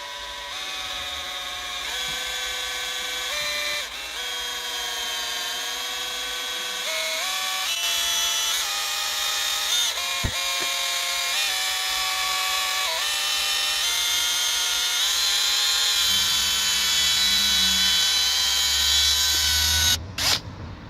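Power drill spinning a toilet brush to mix a bucket in a UK motorhome, a steady high electric whine that shifts pitch in steps as the load changes, close and continuous, ending with a few clunks.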